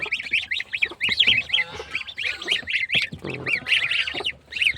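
Many goslings and ducklings, freshly hatched, peep and cheep close by in rapid, overlapping high-pitched calls, with a few lower honks mixed in.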